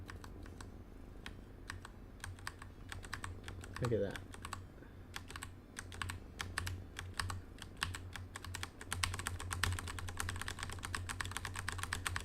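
Rapid typing on a computer keyboard used to steer a robot simulation, steady clustered key clicks running throughout with occasional brief talk over them.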